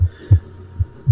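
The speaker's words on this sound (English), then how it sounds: "the first noise that comes back is first your heartbeat in your ears" A heartbeat sound effect heard in the ears as everything goes quiet, with four soft, deep low thumps in a slow uneven rhythm over a faint steady hum, close and alone.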